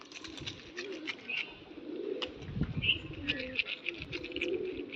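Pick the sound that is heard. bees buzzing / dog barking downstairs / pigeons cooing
pigeons cooing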